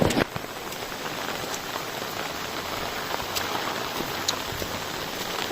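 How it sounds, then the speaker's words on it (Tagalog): Heavy rain pours steadily during a typhoon, a dense, continuous hiss of drops hitting surfaces close by, with a few sharper drip accents and no talking. "Lumakas yung ulan."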